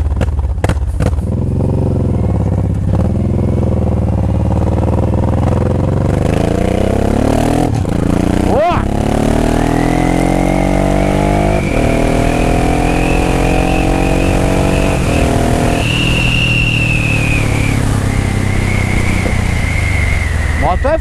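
A Suzuki Boulevard M1500 motorcycle fitted with a full stainless-steel Atalla exhaust revs repeatedly, its loud, deep engine note rising and falling close by, with people talking over it.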